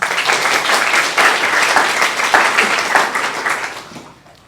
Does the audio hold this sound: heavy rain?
no